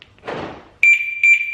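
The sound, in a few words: BMW alarm siren chirping on lock and unlock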